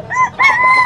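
A rooster crows loudly and close by at a poultry sale, two drawn-out bursts in quick succession with no other sound.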